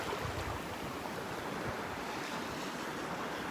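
Ocean waves wash continuously onto the beach at Delnor-Wiggins on a morning walk, a steady broad roar of surf with light wind noise, no voices.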